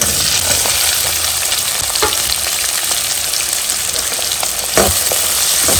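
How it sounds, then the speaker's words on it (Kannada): Loud, continuous sizzling of onions frying in hot oil, with a few clinks and scrapes of a spoon stirring in the pan. "ಚೆನ್ನಾಗಿ ಈರುಳ್ಳಿಯನ್ನು ಎಣ್ಣೆಯಲ್ಲಿ ಹುರ್ಕೋಬೇಕು"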